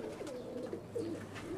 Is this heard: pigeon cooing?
yes